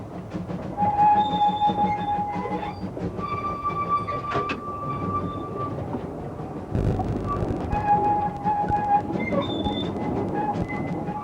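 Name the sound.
steam train running on heritage railway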